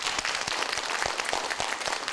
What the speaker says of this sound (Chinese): 所以我们来掌声来谢谢洪博士